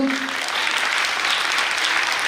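Crowd applause at a school event, a dense, steady roar of many hands clapping at once, briefly overlapping a voice at the very start.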